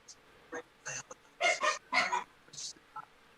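Several dogs bark and yowl in short bursts, clustering into loud, overlapping calls near the middle before trailing off into a few scattered yips.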